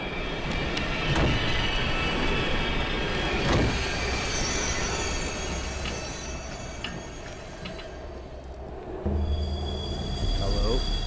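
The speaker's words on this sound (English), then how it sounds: "It's a very dirty subway." Rumbling subway train ambience in the horror video game Here They Lie, a loud continuous rail drone with clanks, ticks and metallic squeals, swelling again near the end.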